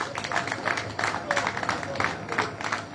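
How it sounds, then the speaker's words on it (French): A conference audience breaks into applause, a steady patter of many hands clapping at moderate distance, with a voice speaking over the clapping. "je vous demande en tout cas de l'applaudir encore une autre fois"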